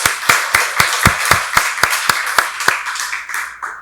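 A church congregation claps during a Sunday worship service, a steady run of loud, regular claps struck together in unison over a soft wash of scattered applause.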